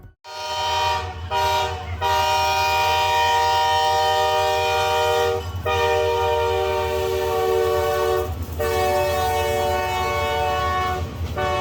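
A train pulls into a San Francisco station, its loud sustained horn blaring in long blasts with brief breaks over a low rumbling engine and rolling wheels, close by and with no voices.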